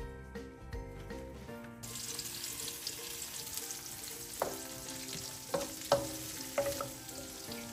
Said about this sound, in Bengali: আমি এখন এতে দিয়ে দিব পেঁয়াজ এবং কিছু টমেটো কুচি।